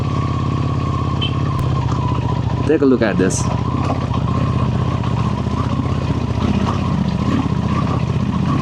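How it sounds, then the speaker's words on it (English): Ducati Desert Sled motorcycle riding slowly along a sandy, dusty mountain road in Upper Mustang, its engine a steady close drone throughout, with someone speaking briefly over it midway. "this motorcycle has been performing fantastic. This is a Ducati Desert Sled"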